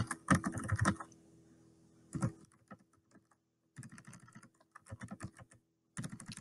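Bursts of rapid clicking from a computer keyboard, nearby and fairly quiet, come in short irregular runs separated by brief pauses.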